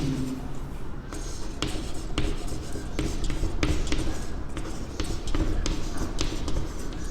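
Chalk or marker strokes scrape and tap on a board during a maths lesson on probability, a series of short, crisp scratches and knocks in irregular bursts over a steady room background.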